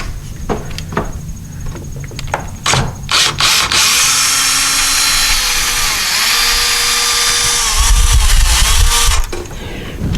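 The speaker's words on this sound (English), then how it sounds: "if you have an electric screwdriver, of course you can use that." A power screwdriver drives out door hinge screws in a few short bursts, then runs steadily and loudly for several seconds with a whirring pitch that shifts as the screw backs out, close up.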